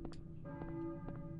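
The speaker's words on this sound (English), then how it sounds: "I hear a church bell, maybe?" A church bell tolls in the Silent Hill video game, with two or three sustained, ringing strikes whose hum lingers between them over a steady low background drone.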